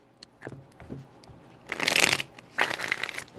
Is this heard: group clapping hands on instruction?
no